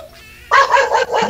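A dog barks several times in quick succession, fairly close and loud, with a quiet moment before the barking starts.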